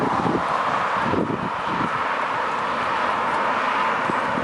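Wind buffets across an exposed hillside above the old Ravensworth Ann pit, a loud, continuous rumbling rush with gusty low thumps against the microphone.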